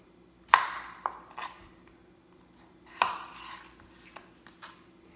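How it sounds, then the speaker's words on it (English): A kitchen knife dicing peeled small baking potatoes into bite-size pieces on a board, two sharp chopping knocks spaced a few seconds apart with lighter taps and scrapes between them, close and clear. "Now I'm gonna dice these potatoes."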